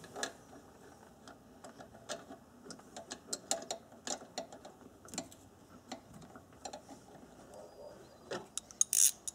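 Ratchet tightening a spark plug on a four-cylinder Ford Ranger engine, heard as quiet irregular ticking clicks close by with small knocks, a louder clack near the end, no talk.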